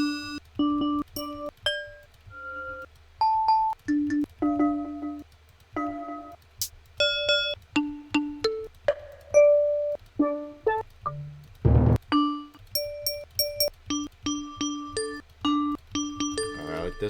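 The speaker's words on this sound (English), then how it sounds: "I'm just gonna get a bell that I like and do a little counter melody" A bright bell sample plays a counter melody in a West Coast SoCal beat, ringing in a steady stream of clear, sustained pitched notes that move up and down over a low, soft bed.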